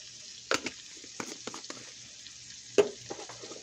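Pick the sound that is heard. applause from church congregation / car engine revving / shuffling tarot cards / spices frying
spices frying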